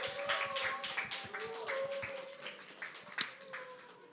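A church congregation claps along during a Sunday worship service, a steady rhythmic beat of hands heard under singing and music, ending with a single sharp accent.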